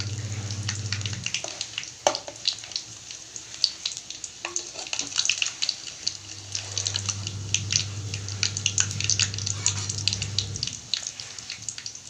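Urad dal vadas frying in hot oil, a soft, steady sizzle with occasional light pops and faint clinks, fairly quiet and with no talking over it.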